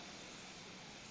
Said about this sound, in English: I don't know if you can hear the aeroplane in the background outside my window